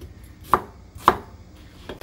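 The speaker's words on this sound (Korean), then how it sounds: "대파 하나를 이렇게 굵직굵직하게 썰어 주고" A knife chops green onion and onion on a cutting board, giving two distinct, crisp thuds about half a second apart and a softer pair of cuts near the end, close and clear with no talking.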